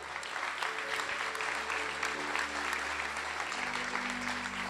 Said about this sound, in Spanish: Qué bonito aplauso